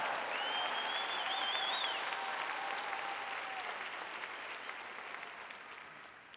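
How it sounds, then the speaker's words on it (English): A church congregation at a sermon breaks into sustained applause, with a few whistles riding on top early on, the clapping slowly fading over several seconds. "Come on, don't clap about the rest of it if you ain't gonna clap about that."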